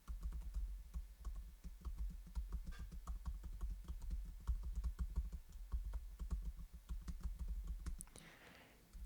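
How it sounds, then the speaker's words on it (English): Rapid, steady keyboard typing up close, a continuous patter of key clicks with no voices, ending in a brief rustle. "if you're going to be typing like this, let me just do a test here"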